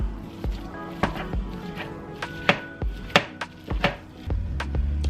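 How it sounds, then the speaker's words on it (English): A knife chops an onion on a cutting board in a series of sharp, irregular thunks, close and crisp, each strike distinct, with a soft shuffling sound near the end. "we're going to start out with cutting our onion here"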